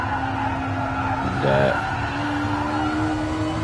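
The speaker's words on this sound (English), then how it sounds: "those tyres squealing away behind him" Race car tyres squeal briefly through a corner at a Pacific Rim Championship round, a short pitched whine rising over a constant engine drone.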